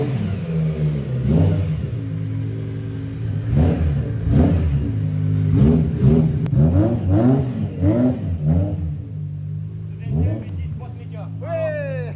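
A BMW E21 fitted with a swapped-in V10 engine idles and revs hard in repeated bursts, loud and close, with people talking and exclaiming over it.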